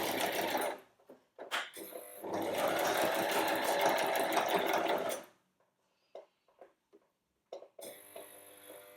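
A sewing machine stitches a fleece hem in bursts: a short run, a brief stop, then a steady longer run of several seconds, followed by quiet gaps with small handling clicks and a final short burst of stitching.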